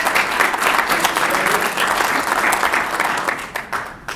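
A conference audience at a commercial real estate forum breaks into steady, sustained applause to welcome a speaker, dense clapping from many hands that holds for several seconds before starting to thin out.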